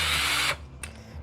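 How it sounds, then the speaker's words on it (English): A power drill drives screws into pocket holes while a balcony bar desk is built. There is a loud, close half-second whine, then quieter clicks and a brief second burst. "we're gonna start by drilling in screws in these pocket holes"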